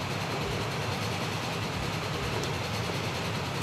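A train runs in the video game Transport Fever on the Great Lakes Loop, travelling at about 70 miles an hour, with a dense, continuous rolling rumble and wheel noise at an even loudness throughout.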